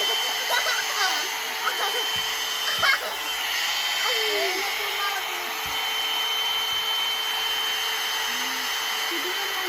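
A One-Step Hair Dryer and Styler blows on its low setting, a constant steady whir with a thin high whine that lasts throughout, while people talk over it.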